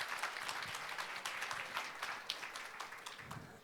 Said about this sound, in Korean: 큰 박수로 맞이 부탁드립니다.